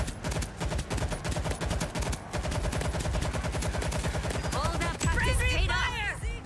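Rapid automatic gunfire from a video game, a dense stream of rhythmic loud shots with a brief pause, then sustained firing joined by ringing, whistling game effects near the end.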